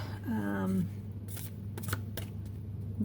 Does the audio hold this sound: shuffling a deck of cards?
yes